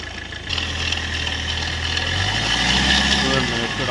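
A 2007 Hyundai Verna engine revs under the accelerator, rising from a steady idle into a louder, climbing drone that holds near and continuous across the clip.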